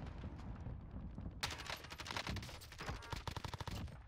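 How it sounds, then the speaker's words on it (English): Rapid gunfire in a first-person shooter game near a prison tower, bursts of automatic shots crackling loudly and densely over steady background noise. "Taking fire over here!"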